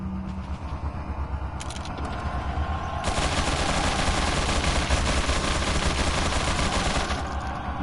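Gatling gun fire in Resident Evil 4 on the PS4 remaster, a loud continuous rattling burst that erupts and keeps hammering for several seconds after some scattered shots.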